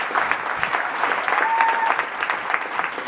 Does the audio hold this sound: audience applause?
yes